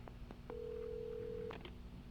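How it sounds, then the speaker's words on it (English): Telephone dialing in the Alan Wake video game: a few short clicks, then one steady electronic tone lasting about a second, followed by a couple of quick beeps, clean and fairly quiet. "look, a phone. Let's use it."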